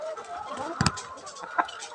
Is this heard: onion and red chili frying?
no